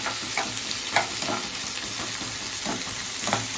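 Onions frying in a pan with spinach curry are stirred with a spoon, giving a constant hiss of sizzling broken by several scraping stir strokes.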